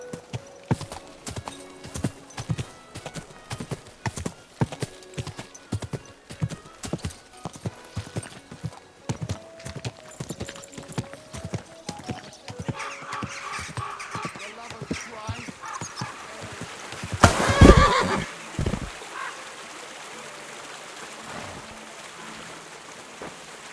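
Horse hooves clip-clop in a steady trotting rhythm in Kingdom Come Deliverance 2, with a brief louder whinny near the end and light rain-like patter in the background; a voice speaks briefly.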